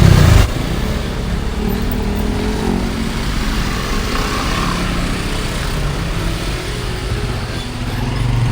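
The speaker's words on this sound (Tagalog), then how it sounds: "Kaya bumper to bumper na po ang traffic dito." Heavy bumper-to-bumper traffic near F. Manalo Bridge in Marikina makes a dense, continuous roar of car and motorcycle engines, loud and close with no break.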